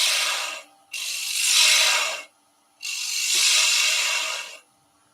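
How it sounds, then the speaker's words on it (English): A bowl gouge cuts into wood spinning on a lathe, giving two long hissing, scraping passes and the tail of a third, each separated by near silence. "Back with the bowl gouge again. We're going to work away from this outside edge."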